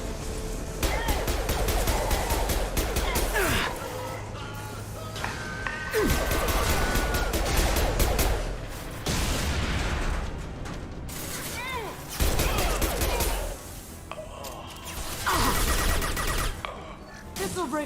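Mass Effect 2 combat with loud, dense bursts of gunfire, crashes and impacts rolling on almost without a break as an enemy is shot down, with a voice calling out over the din.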